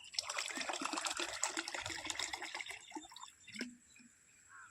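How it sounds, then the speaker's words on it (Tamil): Liquid biofertilizer poured out for mixing on an organic farm, a close trickling, splashing pour that tapers off into a few faint drips. "இப்போ இந்த மாதிரி ஊற்றி வச்சு அது மிக்ஸ் ஆகிடும்."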